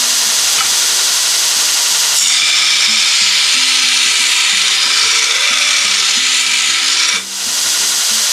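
A Titangrinder backstand belt grinder runs with a steady motor hum while the belt rounds off an edge, giving a bright, loud abrasive rasp for about five seconds before the grinding eases off.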